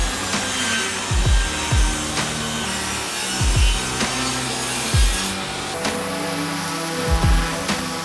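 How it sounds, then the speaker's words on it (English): A table saw ripping a wood strip lengthwise at a 45-degree angle, a loud steady whine with recurring dips as the blade bites through, close up and without speech. "we're gonna set the table saw to 1 inch and 5/8. That will rip this down the middle at the 45-degree angle"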